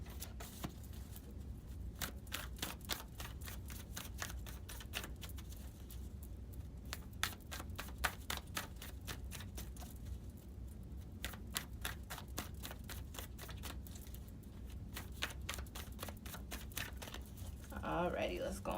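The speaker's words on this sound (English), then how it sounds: "let's finish shuffling these cards," A deck of tarot cards being shuffled close up, rapid riffling flicks and soft slaps repeating in quick bursts through most of the stretch, with a voice talking over it at times.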